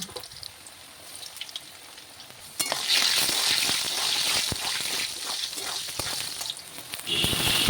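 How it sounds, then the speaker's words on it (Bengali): Potatoes hit hot oil that already holds a bay leaf and cinnamon pieces, and a quiet pan gives way to a sudden, loud, sustained sizzle with crackling pops and stirring. "তাতে 3 চামচ তেল দিয়ে একটা তেজপাতা ফাটিয়ে দিয়ে কয়েক টুকরো দারচিনি ভেজে নিয়ে আলু দিয়ে দিলাম।"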